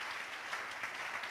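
A church congregation applauds during a sermon broadcast, a dense steady patter of many hands clapping, moderately distant and continuous for the short stretch, with no talking over it.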